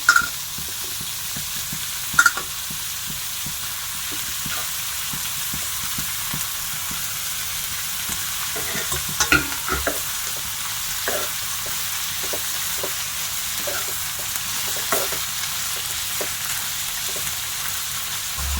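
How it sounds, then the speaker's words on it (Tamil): Onions and tomatoes frying in a pan for paneer butter masala, giving a steady soft sizzle with occasional louder stirring scrapes and clinks near the start and middle, with no talking. "வெங்காயம் வதங்கிருக்கு கொஞ்சம். இப்போ தக்காளி சேர்த்துக்கலாம்."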